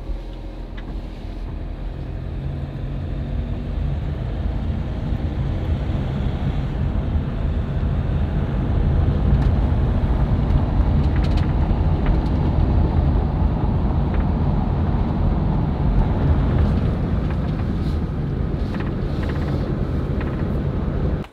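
A van driving along a road, heard as a continuous loud low-frequency road and engine rumble with wind noise, steady throughout and swelling slightly midway.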